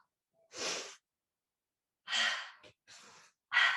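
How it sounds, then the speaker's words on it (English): Noisy breathing through the nose during a slow yoga flow, heard as several separate breaths alone in near-silence: one long exhale, a pause, then a strong breath and two shorter ones, close and clear. "Doesn't really matter which way you breathe, as long as you're pumping the breath a bit through the nose"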